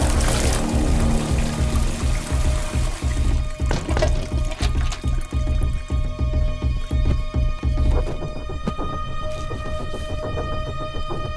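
A toilet flushing in an office washroom, a loud rush of pouring water at the start that settles into a steady trickle and refill as the tank drains, with no voices.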